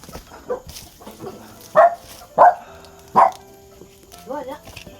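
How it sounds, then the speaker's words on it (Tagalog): A household dog gives a few sharp, close barks spaced about a second apart, loud against quiet surroundings, with a voice speaking briefly before and after. "Ito po yung aso namin."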